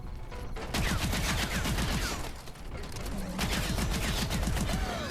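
An S12 shotgun fires repeatedly in Exo Zombies on the Infection map, a dense rapid volley of loud blasts mixed with game mechanisms and zombie noise.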